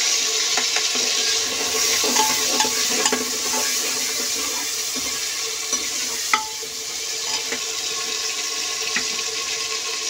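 Ginger and green chilies sizzling in hot oil in a pan, a steady loud fry with small crackles and occasional stirring clicks, no voices.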